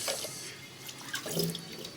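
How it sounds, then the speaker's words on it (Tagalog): Tap water runs and splashes into a bathroom sink, a steady close wash with a few brief clinks and drips. "Then, Ford, binuksan mo yung tubig sa CR na?"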